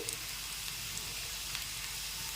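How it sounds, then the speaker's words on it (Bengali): Chopped onion frying in oil for a fish curry, a steady, dense sizzle crackling continuously and fairly close, with no voices. "এখন এই তেলের মধ্যে আমি দিয়ে দিচ্ছি পেঁয়াজ কুচি পেঁয়াজ কুচিটা একটু হালকা ভেজে নিতে হবে"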